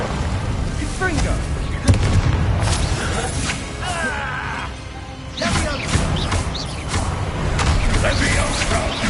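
Blasting-spell explosions and booms fire off repeatedly in a Hogwarts video game, dense bursts with rumbling debris, while a voice shouts spell names over the top.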